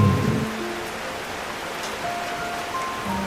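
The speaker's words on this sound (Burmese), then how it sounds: "မိုးကြီးတဲထန်စွာ ရွာသွန်းလာပါတော့တယ်" Heavy rain pours down on a forest, a steady hiss of downpour that stays even and moderately loud throughout, with faint tonal background sounds mixed in.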